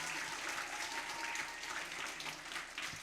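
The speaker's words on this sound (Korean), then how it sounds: "박수 주세요." An audience of young adults at a church youth service claps continuously, a dense, even patter of applause throughout, heard without talk.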